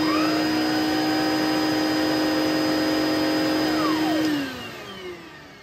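An Electrolux commercial vacuum cleaner runs with a loud, steady motor whine close by, then powers down, its pitch sliding lower as it winds down near the end.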